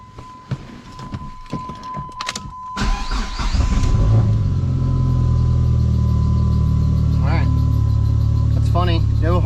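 A Dodge SRT-4 with a faulty cam sensor sits at first under quiet background sounds and brief clicks, then the engine starts and settles into a loud, steady running drone that continues to the end.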